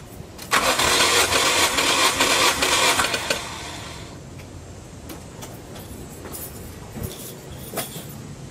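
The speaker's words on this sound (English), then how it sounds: "So I let the engine turn over about five times" A car engine cranks steadily for about three seconds during a compression test, with a rapid rhythmic chugging, then drops to a quieter hum with a few faint clicks.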